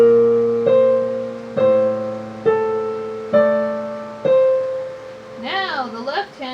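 A piano plays a single slow measure of a piece, five evenly spaced struck notes ringing over a low held bass, clear and close, then a voice begins speaking at the end.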